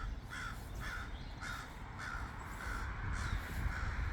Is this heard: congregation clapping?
no